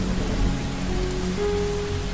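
Heavy rain pours during a typhoon in an animated horror story, a steady dense wash of rainfall drumming on surfaces throughout, close and continuous with no voices.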